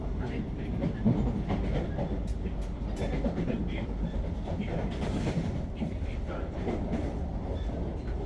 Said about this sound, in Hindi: वो तो हमारी ट्रेन का रन कसारा घाट सेक्शन में